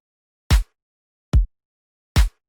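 Three evenly spaced hits of a simple electronic kick drum sample for a dubstep beat, each a punchy low thump with a short bright attack and a brief tail, heard alone with silence between.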